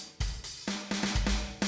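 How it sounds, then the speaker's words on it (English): Roland electronic drum kit with a TD20 module played live, giving a short groove of sharp kick and snare-like hits with cymbal wash, close and fairly loud, no voices. "it sounds a little bit like electronic drum kit"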